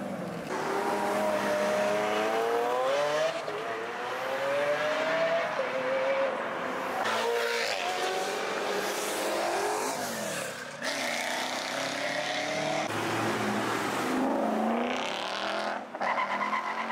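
At a Houston Coffee and Cars meet, a car revs hard and launches, engine climbing through gears with tire squeal and skidding, loud and sustained, with crowd voices shouting over it.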